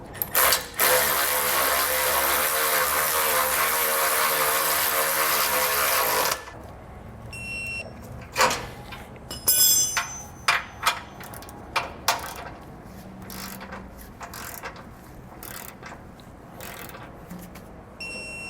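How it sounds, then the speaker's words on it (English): Bolts on a Blue Ox base plate kit being tightened and torqued on a 2022 Ford F-150: a long, loud continuous impact-style mechanical whir, then a series of sharp separate ratcheting clicks and metallic clanks, no talking. "we're going to go ahead and tighten and torque these 2 bolts here"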